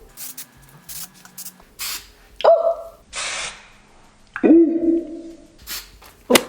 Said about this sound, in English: So I'm gonna add some hairspray.